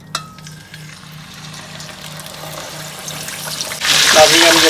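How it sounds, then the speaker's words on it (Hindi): Marinated chargha chicken lowered into hot oil for frying, a steady close sizzle with a low hum that swells into loud bubbling crackle near the end. "अब हम इसको फ्राई करेंगे ऐसे ही जी"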